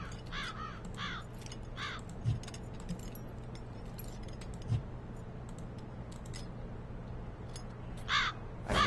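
A raven caws repeatedly in the Black Mirror 2 video game, short harsh calls in clusters at the start and again near the end, over a faint ambient hum with a couple of soft thuds between.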